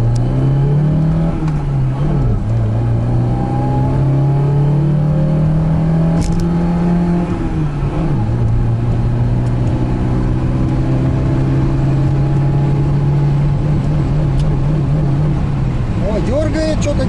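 A VAZ 2106 accelerates toward 100 km/h with a loud, close interior engine drone that climbs steadily in pitch through each gear. Brief dips mark the gear changes, and the run lasts the whole stretch.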